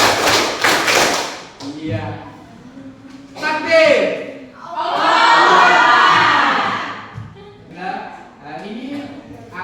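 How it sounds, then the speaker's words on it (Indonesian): Classroom of students during an ice-breaking game: bursts of group clapping and loud shouting alternate with a teacher's spoken counting, the class responding together in rhythmic rounds. "Tepuk 1, tepuk 2, tepuk 3, tepuk 4."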